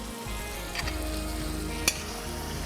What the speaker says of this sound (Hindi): अच्छे तरीके से ऑयल के अंदर टमाटर फ्राई होंगे